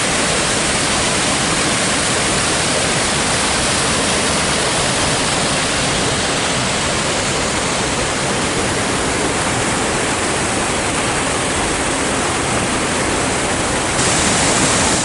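Cascade of a river waterfall along the Lake Superior shore, a loud, steady broadband rush of falling water filling the whole stretch with no pauses or voices.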